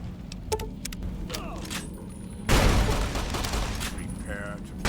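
Explosive sniper rifle fire in Fallout: New Vegas, a sharp blast erupting midway into a sustained roar, with other sharp clicks before it and a voice talking over part of it.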